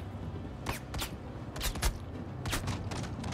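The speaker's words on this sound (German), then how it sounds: "Da wird irgendwo geschossen." Gunfire crackles during a Star Citizen bunker mission, several sharp separate shots with short gaps between them over a low background rumble, no voices.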